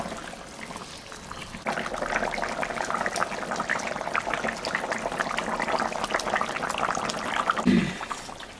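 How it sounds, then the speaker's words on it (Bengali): Fish is added to boiling Bengali mrigal fish curry broth in a pot: a steady close bubbling simmer with liquid churning, rising into a soft splash and sizzle near the end, with no talking. "ঝোলটা ফুটে গেছে, এখন আমি মাছটা দিয়ে দেবো।"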